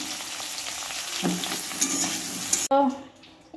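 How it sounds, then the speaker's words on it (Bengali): Pointed gourd, potato and eggplant fry in hot oil with a dense, close sizzle and crackle that runs steadily, then cuts sharply and resumes more thinly near the end. "তো এগুলো এখন আমি সম্পূর্ণ ভেজে নেব।"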